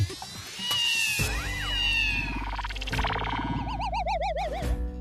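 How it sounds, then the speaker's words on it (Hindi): Two cats yowl, meow and screech at each other in a fight indoors, the wavering cries loud and close, rising into a long trilling wail near the end, with a dull thump at the start. "अंदर दो दो बिल्लियां लगता है, झगड़ा करिए"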